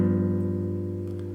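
A three-note shell voicing of root, third and flat seventh rings out as a sustained chord, steady and close, fading slightly over its short length with no one talking.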